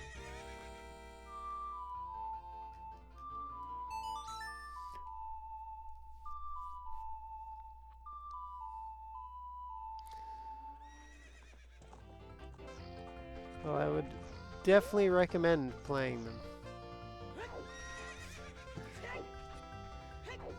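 A horse in the video game The Legend of Zelda: Ocarina of Time whinnies with rising and falling cries, and faint hoofbeats follow a stretch of plinking game music, while someone talks over parts of it.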